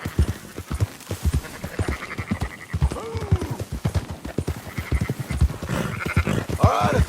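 Hooves of an Appaloosa horse clip-clop in a steady galloping rhythm in the video game Red Dead Redemption, with sheep bleating and a horse whinnying amid the herd.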